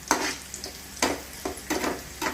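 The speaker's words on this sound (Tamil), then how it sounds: "இந்த மாதிரி கொஞ்சம் நல்லா ஃப்ரை பண்ணிக்கணும். கொஞ்சம் பொன்னிறமாக வர மாதிரி வறுத்து எடுத்துக்கணும்." Semolina (rava) dry-roasting in a pan until golden for kesari, heard as about five distinct scraping, sizzling stirs spaced across the moment, close and fairly quiet with no talking.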